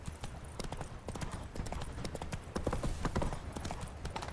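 A horse galloping in The Witcher 3 video game, with rapid steady hoofbeats drumming continuously and close over a low rumbling background.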